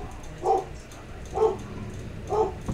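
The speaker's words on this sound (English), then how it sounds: "My dog start barking." A dog barks three times at steady intervals, each a short single woof, moderately loud and fairly close, with quiet room noise between.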